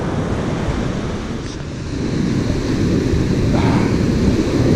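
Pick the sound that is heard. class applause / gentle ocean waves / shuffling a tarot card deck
gentle ocean waves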